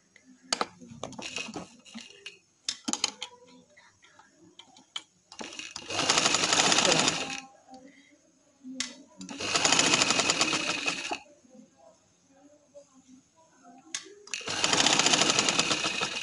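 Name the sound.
sewing machine stitching a kameez seam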